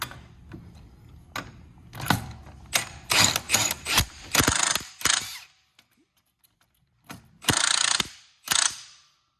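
A ratchet wrench with a 1.5-inch socket turns a nut on a trap base, giving repeated bursts of fast metallic clicking with short pauses and a silent gap midway, close and loud.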